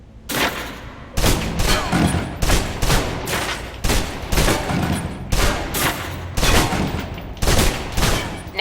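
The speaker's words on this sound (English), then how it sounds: "Now, let's move on to the submachine gun. Now let's empty the clip." A submachine gun in the Alpha Protocol video game fires through a full magazine in about eight loud, sharp automatic bursts, each followed by a short pause, with no talking.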